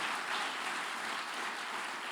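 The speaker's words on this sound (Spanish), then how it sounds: "Si le vas a aplaudir a mi Jesús, hazlo fuerte en esta noche" A church congregation applauds, a dense, even wash of clapping held for a couple of seconds at moderate distance with no voices.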